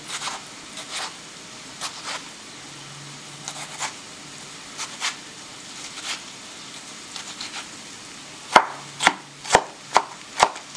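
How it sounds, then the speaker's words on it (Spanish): A knife chops tomato on a cutting board: scattered single knocks at first, then a quick run of five sharp, close chops at the end, with no talking. "Vamos a picar nuestro tomate."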